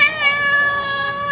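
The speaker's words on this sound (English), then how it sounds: "reports from a cat refuge in Taipei" A single cat at a cat refuge in Taipei lets out a loud, drawn-out, close meow that holds its pitch throughout.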